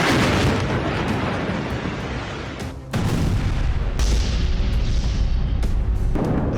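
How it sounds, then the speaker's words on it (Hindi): Continuous heavy rumbling and booming from shelling in Gaza, loud and dense, with a brief dip partway through before the roar resumes. "धमाकों का शोर अब और तेज होने वाला है।"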